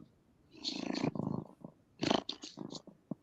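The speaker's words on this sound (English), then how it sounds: "He's purring." A cat purring in low, rumbling bursts, close to the listener, with short pauses between breaths.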